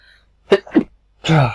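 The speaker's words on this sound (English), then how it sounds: "Sorry, gotta sneeze." A single sharp sneeze, close and loud, preceded by two short breathy intakes, then silence.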